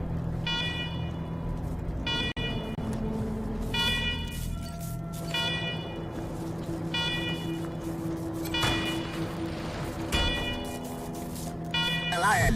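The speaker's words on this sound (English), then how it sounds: "let's talk after you kill the alarms. I can hardly hear myself think." Facility alarms in the video game Wasteland 3 blare in repeated, evenly spaced electronic pulses, loud and insistent, with a character's voice speaking over them.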